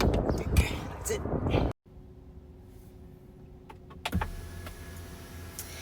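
Hansshow electric sunshade motor in a Tesla Model 3/Y, a faint whirring slide followed by a soft stop, with a speaking voice and light cabin handling noises around it.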